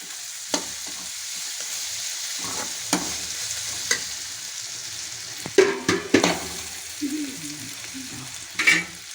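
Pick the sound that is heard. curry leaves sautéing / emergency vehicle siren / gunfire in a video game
curry leaves sautéing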